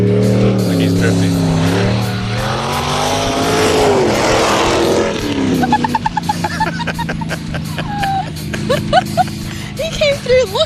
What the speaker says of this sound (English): Like he's drifting.